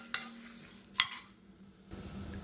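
A spoon stirs coriander seeds and tamarind roasting in a pan over a medium flame: two sharp scraping clinks against the pan, a faint background hiss, and a soft shuffle near the end.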